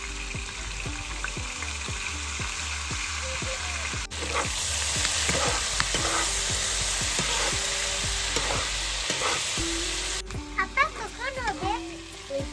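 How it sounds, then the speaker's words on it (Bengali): Pieces of fish fry in oil with salt and turmeric, giving a loud, continuous sizzle close at hand, with repeated scraping taps of a spatula stirring the pan. "লবণ আর হলুদে মাছটাকে ভালোভাবে ভেজে নেবে"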